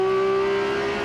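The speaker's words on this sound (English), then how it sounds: "Now this Porsche runs unlimited revs." A Porsche race car engine at Mid-Ohio in a 2004 Rolex Sports Car Series event, with a 6-speed gearbox and high revs. It holds a loud, steady, high-pitched rev close up, strongly tonal and continuous for about a second.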